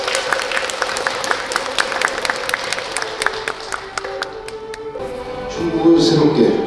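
A crowd claps at a Buddhist Taego order inauguration ceremony in Chungbuk. The crisp, dense claps hold moderately loud, then thin out near the end as other room sounds take over.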